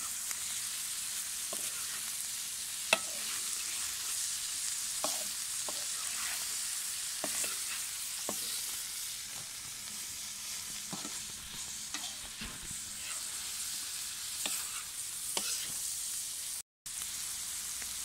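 Lamb liver fries on a hot saj while a utensil stirs it, a steady soft sizzle broken by repeated light scraping clicks, fairly quiet and close, with no voices.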